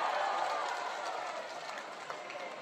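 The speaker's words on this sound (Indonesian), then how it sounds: "Boleh tepuk tangan untuk Bung Ismail Bahtiar." Applause and clapping ripple through an audience at an Indonesian political rally in Bone, South Sulawesi, a dense, moderately distant patter that slowly fades.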